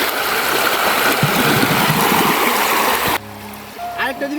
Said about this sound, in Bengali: চাকুটা ধুয়ে নিই।